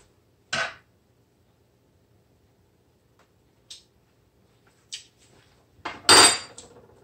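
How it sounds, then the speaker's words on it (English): A spoon and dishes clink in a home kitchen during a curry chicken stir-fry. There are a few sharp, isolated metallic taps, then a louder cluster of ringing clinks near the end, with quiet pauses between them. "I'm going to get a spoon."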